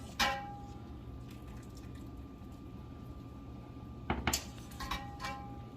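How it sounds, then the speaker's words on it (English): Cooked pasta for cacio e pepe spooned into a skillet: a few sharp metallic clinks of spoon on pan over a low steady kitchen hum, with soft wet shuffling between them. "I'm just going to spoon our pasta into this skillet."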